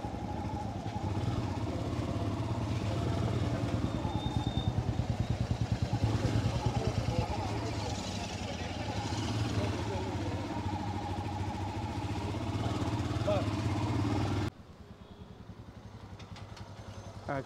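A Royal Enfield Himalayan motorcycle engine runs steadily up close with a constant low rumble, then drops abruptly to a quieter level near the end.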